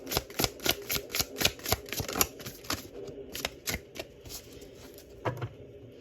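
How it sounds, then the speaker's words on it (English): A deck of tarot cards being shuffled by hand, close and crisp: a quick run of rhythmic slapping riffles, then a pause and a few slower card flicks, no one talking. "let me go ahead and pull some more cards"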